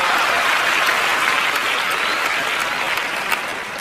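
Dense, sustained studio audience applause on the Kaun Banega Crorepati set with Kapil Sharma and Amitabh Bachchan, loud and steady for the whole stretch, easing slightly near the end.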